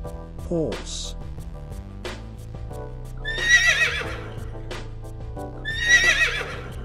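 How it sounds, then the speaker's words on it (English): Two loud horse whinnies, each a shrill descending neigh lasting about a second, rise over a steady backing music track, with a shorter snort-like call near the start. "Horse."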